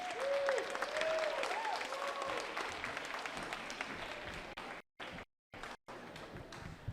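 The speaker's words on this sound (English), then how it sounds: "A round of applause for Deborah Juarez, please." Steady applause from a crowd at a City Hall Indigenous Peoples' Day celebration fills the scene, clapping evenly for several seconds before briefly cutting out near the end.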